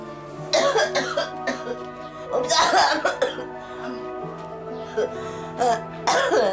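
Repeated harsh coughing fits from a person with a lingering cough, several bursts separated by short pauses, close and fairly loud over a quiet humming background.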